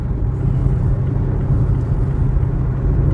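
A Mazda CX-5 diesel under way gives a loud, steady low engine and road rumble that holds evenly throughout, with no voices.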